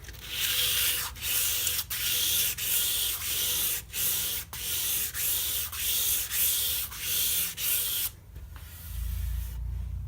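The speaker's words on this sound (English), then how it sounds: "I'm just going to give it a really light sanding with about an 800 grit sandpaper." Light hand sanding with 800-grit sandpaper over a finished wooden memorial box before the final coat: steady, close rasping strokes in a regular back-and-forth rhythm, about a dozen passes, stopping near the end.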